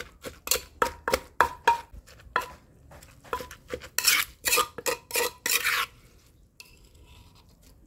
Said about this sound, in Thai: ตำให้มันเข้ากันอีกรอบค่ะ